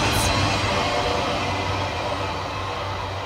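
Tail end of a long freight train rolling past, a broad rail rumble that gradually eases and fades as the last cars go by.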